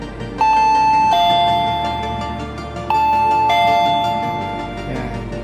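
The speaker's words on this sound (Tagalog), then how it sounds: "Gagana na ang ating doorbell." A Terminator TDB003AC/13A wireless doorbell chimes twice, each ring a clear electronic two-tone ding-dong that lingers, about two and a half seconds apart.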